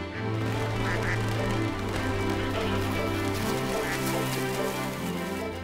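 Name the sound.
flock of bar-headed geese calling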